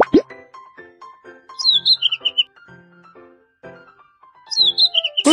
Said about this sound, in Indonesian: Burung kecil.